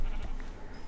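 Sheep bleating in a Minecraft-style survival video game, a short burst of a bleat or two at moderate volume over a faint background.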